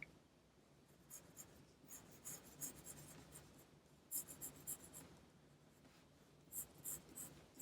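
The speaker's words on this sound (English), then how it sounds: "Now I'm drawing this in pencil first" A pencil sketches on paper close up, making soft, scratchy strokes in short bursts with brief pauses between them, quiet and alone.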